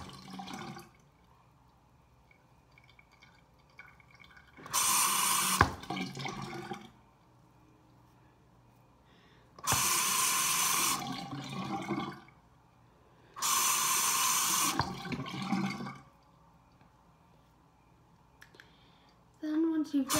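Tap water runs loudly in three separate bursts of about two to three seconds each while shaving cream is rinsed off a face, with quiet pauses between and a little water splashing.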